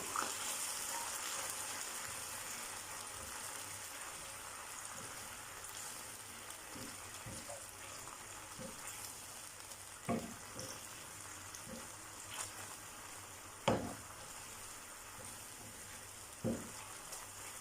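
Soy sauce stirred into chicken frying in a pan, a faint steady sizzle with a few soft scrapes and clicks of utensils, no voices.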